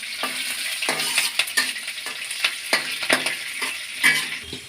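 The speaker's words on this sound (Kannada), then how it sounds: "ಫ್ರೈ ಮಾಡ್ಕೊಳ್ಳೋಣ." Ginger, garlic and green chillies fry in a pan while cabbage manchurian is made, with a steady close sizzle cut by about a dozen rhythmic spatula scrapes and stirs.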